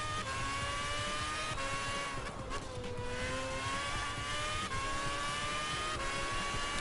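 A race car in the Gran Turismo 5 video game during a Dream Car Championship race, its engine giving a sustained high, revving whine that rises and falls through gear changes, loud and steady without talking.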